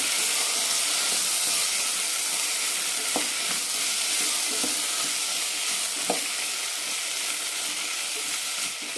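Carrots, soaked green peas and chopped potatoes sautéing in a pan for a potato egg curry, a steady close sizzle and hiss with occasional stirring clicks of the spoon.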